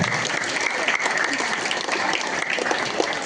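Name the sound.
audience applause at school annual day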